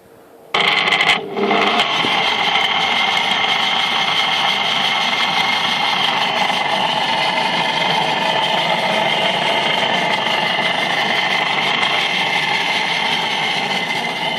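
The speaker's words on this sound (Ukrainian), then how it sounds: "зараз зробимо впуск цьому двигуну" A powerful electric motor of over 3 kW starts abruptly and runs at a steady loud hum and whine, continuous throughout with no talking.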